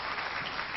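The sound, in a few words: applause for a guest at a book presentation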